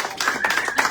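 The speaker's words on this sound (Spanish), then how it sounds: "¡Un aplauso!" Audience applause at an evening poetry and philosophy event, a short burst of many hands clapping together, close and fairly loud.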